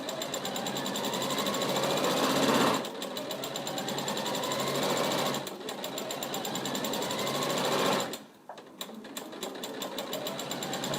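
Sewing machine running long straight-stitch seams on a scrubs bag, a steady loud mechanical whir that halts briefly twice and then restarts, with no voices.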